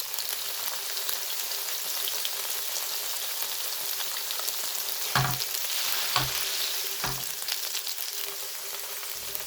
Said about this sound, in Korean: 두부 하나를 넣어보고 기분 좋은 소리가 들리면 나머지도 모두 넣습니다.